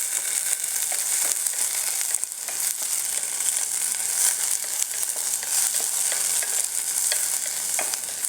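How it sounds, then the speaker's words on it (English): Mustard seeds crackle and pop in hot oil, a dense, loud, continuous sizzle with rapid small pops throughout, no talking. "the oil to pop the mustard seeds. Yeah, it started popping."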